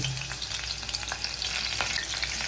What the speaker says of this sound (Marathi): कढाई गरम झाल्यावरती मिरची टाकली